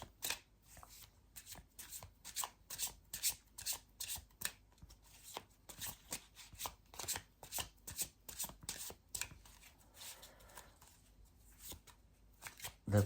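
A deck of tarot cards is shuffled close up, giving a steady run of rapid riffling flutters and soft slaps with a brief quieter stretch near the end.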